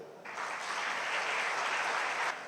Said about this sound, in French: je voudrais qu'on leur applaudisse